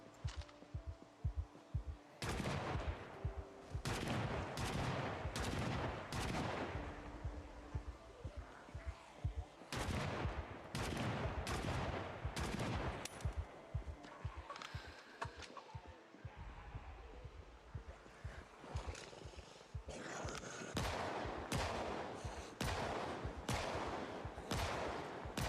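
Rapid gunfire in Project Zomboid cracks out in dense bursts and single shots for the whole stretch, loud and close, with a brief lull in the middle and a faint voice now and then.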